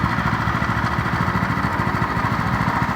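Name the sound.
pull-start small engine running on HAM trainer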